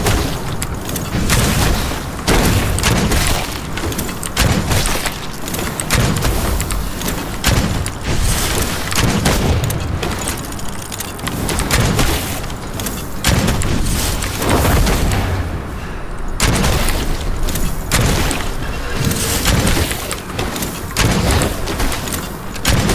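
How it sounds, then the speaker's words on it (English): Grenade-launcher-style weapon fire with a shockwave fire effect in the video game Witchfire, a dense run of loud booming blasts and impacts layered over constant game action, with no voices. "It has a shockwave fire effect as well, so it's like a little grenade launcher"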